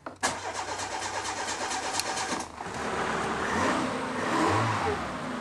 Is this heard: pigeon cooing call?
no